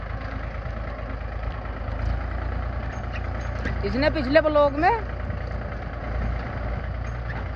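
A tractor engine runs on a farm field with a steady low, idling rumble throughout, while people talk close by over it.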